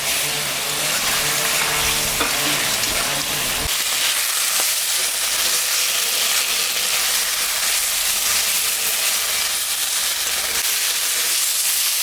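Paste of ginger, cumin and dry red chili frying with a tomato and a splash of water in a pan, giving a constant loud sizzle and hiss with a few stirring knocks early on.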